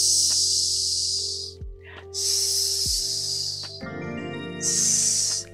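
A human voice imitating a snake's hiss for the letter S, giving three long, bright, steady hisses with short pauses between, close and loud over a faint low background tone.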